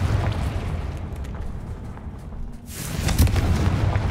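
Confringo blasting spell from the video game Hogwarts Legacy: a sudden burst of explosive noise lands near the end, after a steady background rumble of game ambience.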